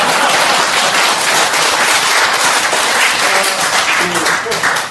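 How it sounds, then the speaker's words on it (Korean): Audience applause fills a lecture hall on wave medicine, with dense, sustained clapping running steadily throughout at a fairly loud, close level and faint voices underneath. "박수 한번 치죠."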